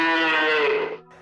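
A person imitates a cow with a long, loud, drawn-out moo that holds steady and then tapers off, delivered alone and close up.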